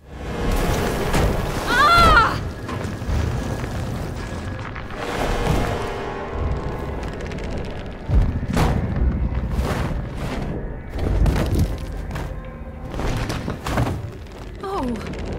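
Rain and thunder from a video game storm: a steady wash of rainfall with deep booming rumbles and several sharp thuds rolling through, loud and continuous.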